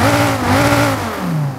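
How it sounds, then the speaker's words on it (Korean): The 8000cc engine of a 2016 Dodge Viper ACR revs loudly and close by, rising and falling in pitch across a short burst, then settling lower. "제가 8000cc의 엔진 소리 한번 들어볼게요"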